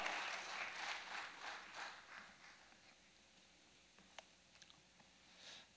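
A church congregation applauding to welcome a pastor during a Thursday service, fairly faint and distant, swelling in uneven waves before fading after about three seconds into quiet with a few scattered claps and small knocks.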